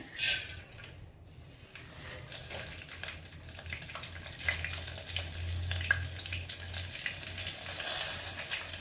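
Steady sizzling of tempering spices and slit green chillies frying in hot oil, a continuous crackling hiss with small pops, fairly close and with no voices.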